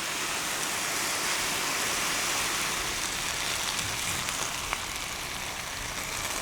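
Pasta water pours steadily into a pan of food, a continuous broadband splashing rush lasting throughout at even loudness, with no talk.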